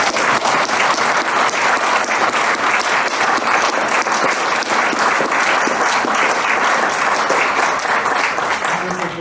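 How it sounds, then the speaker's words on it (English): A neighborhood association meeting audience applauds the standing candidates, a loud, steady wall of dense clapping filling the room for the full nine seconds without letup. "Let's give them a big round of applause."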